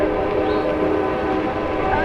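A train rolls past near a chemical facility in Apex, North Carolina, a loud close rumble with steady tonal horn-like hum lasting throughout.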